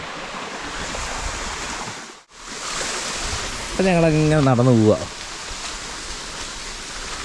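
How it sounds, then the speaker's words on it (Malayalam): Water flows steadily in a small forest stream on a walking trail near Paithalmala, Kerala, a continuous rushing wash throughout, with someone speaking briefly over it midway. "പോകുന്ന വഴിക്ക് ഇങ്ങനെ വെള്ളം ഒഴുകുന്ന സ്ഥലമുണ്ട് കേട്ടോ അരുവി പോലെ"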